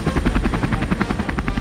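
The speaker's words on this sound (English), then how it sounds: "Do you hear that? Chopper inbound." A toy action-figure helicopter's rotor thumps in a steady, loud rapid beat, close and continuous with a buzzing engine whine.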